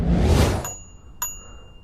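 Two bright metallic dings from the bell on an Actbest Speedy-ST electric bike, one at the start fading quickly and another about half a second later, ringing briefly with a sustained high tone over low background noise.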